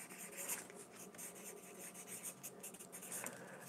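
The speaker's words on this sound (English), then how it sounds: "I'm going to write that down" Soft, close scratching of a pen writing by hand on a list, a steady faint rasp with small strokes running throughout.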